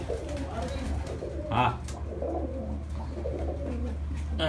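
Breeder pigeons coo on a rooftop, soft and repeated over a low hum, while a person speaks briefly nearby.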